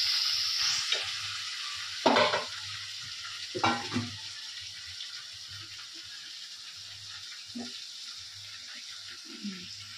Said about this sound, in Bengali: হালকা করে করেই ভাজবো।